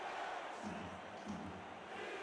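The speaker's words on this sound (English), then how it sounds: "You can hear the crowd response there" Home crowd at a football game roaring together: a broad, continuous wash of crowd noise with cheering and swells, alone with no clear talk on top.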